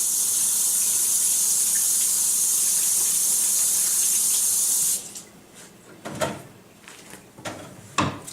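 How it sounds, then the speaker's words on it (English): A kitchen tap runs in a strong, steady hiss while hands are washed under it for about five seconds, then shuts off, followed by a few soft knocks and handling sounds. "And let me wash my hands first."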